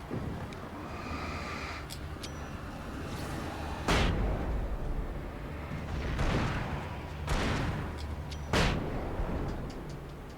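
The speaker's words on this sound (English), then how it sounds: "Now, flashbangs are busted strong." Flashbang grenades go off in the game Alan Wake, with several sharp, loud bursts a couple of seconds apart, each dying away into a tense, noisy background.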